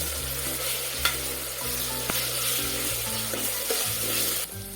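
About two spoons of ginger paste fry in a pan for a mutton dish, giving a loud, even sizzle close by with a few light stirs and taps, and no voices.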